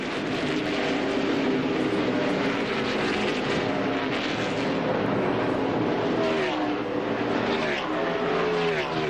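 NASCAR Winston Cup stock cars roaring around the Watkins Glen road course, a loud continuous engine drone with shifting pitch as cars pass, a race commentator talking over it.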